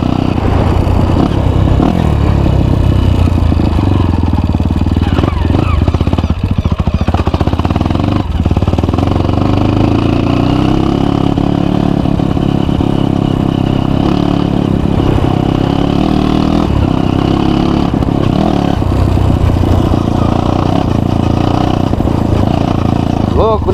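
A Honda CRF motorcycle engine runs loud and close throughout, its pitch rising and falling slightly, with a voice talking over it.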